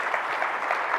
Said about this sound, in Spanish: Les pedimos un aplauso para nuestros expositores.